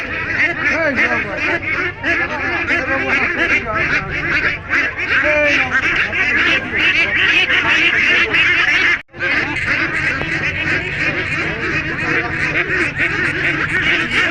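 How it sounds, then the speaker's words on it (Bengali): A crowded flock of farm-raised meat ducks, carried from the farm to market for sale, quacks loudly and constantly at close range, with one brief break partway through. "আমরা আমাদের খামার থেকে হাঁস বিক্রি করার জন্য বাজারের উদ্দেশ্যে নিয়ে যাচ্ছি"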